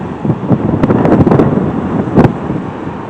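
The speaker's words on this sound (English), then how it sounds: "It's windy here." Strong gusty wind buffets the microphone in rough bursts, with a broad rushing roar of surf behind it and no voices.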